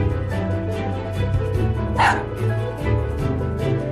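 A toy robot dog named as a smart device barks in short electronic woofs and yips, repeated several times over a background of music.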